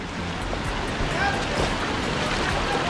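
A waterfall at Sandhan Valley where two streams join, running with reduced force after dry days, gives a steady, loud broadband rush of water with some wind, continuous throughout.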